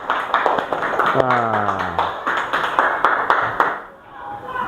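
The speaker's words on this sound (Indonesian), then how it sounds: "Tepuk tangan" Classroom hand clapping from eighth-grade students, a short burst of scattered claps mixed with voices and chatter, fairly close and moderately loud.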